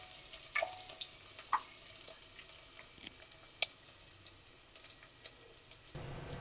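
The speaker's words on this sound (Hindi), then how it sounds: "प्याज मेरी भुन चुकी है" Chopped onion sautéing in a pan for barley dalia gives a soft, quiet sizzle dotted with occasional sharp pops and crackles, with no voices over it.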